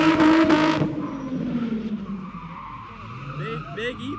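A Toyota JZX100 skidding on the e-brake, with a loud tire squeal and engine note at the start that trails off, followed by further shorter squeals, and a voice talking over it.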